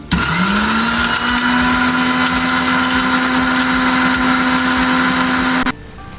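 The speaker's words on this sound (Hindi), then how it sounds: "ये तिल हैं, इनका पेस्ट बनने में थोड़ा टाइम लगेगा, मुझे 2-4 मिनट लग जाएंगे इसका पेस्ट बनाने में।" Electric grinder blending sesame seeds into a paste in a home kitchen, a loud steady motor whir that spins up quickly, holds constant for several seconds, then cuts off abruptly.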